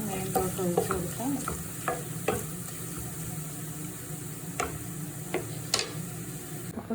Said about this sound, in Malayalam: ചൂര വറുത്തരച്ച കറി തിളച്ച് തുടങ്ങിയിട്ടുണ്ട്